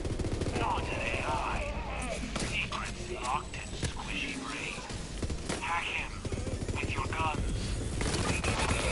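SMG fire in Borderlands 3, rapid close bursts of automatic gunshots repeating through the scene amid game effects, with a voice talking over the shooting.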